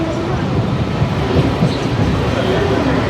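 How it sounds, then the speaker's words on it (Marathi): Mumbai local train coming into platform 4 at Dombivli station, a loud steady rumble and rattle of the coaches heard from on board, with a voice speaking over it. "तर आता आपली ट्रेन पोहोचली."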